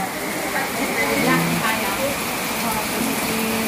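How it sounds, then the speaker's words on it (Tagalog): Steady rain hissing all around in Tingloy, with faint voices and murmurs mixed in beneath it. "at inabot na kami ng ulan, kaya hindi pa kami makaalis"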